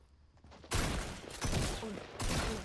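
Bursts of Fortnite gunfire in a video game match, three loud broadband volleys each trailing off over a second or so, with quieter game ambience between them.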